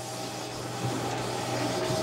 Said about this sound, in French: Ça fait un bruit d'imprimante.